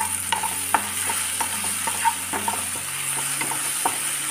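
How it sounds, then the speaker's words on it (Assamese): Tomatoes and masala frying in a pan for an Assamese spinach and potato dish, a steady close sizzle broken by repeated scraping strokes of a spatula stirring the mixture, with no voices. "বিলাহীখিনিৰ সৈতে এতিয়া সুন্দৰকৈ মছলাখিনি ভাজি ল'ম।"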